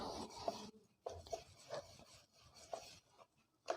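A rolling pin works a ball of semolina and jaggery dough dusted with dry flour, making soft rubbing, rasping strokes that come in short repeated bursts with faint taps between them, close by and fairly quiet, with no talking.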